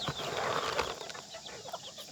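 Chickens cluck close by in a farmyard, a busy cluster of short calls with some rustling and possible wing flaps.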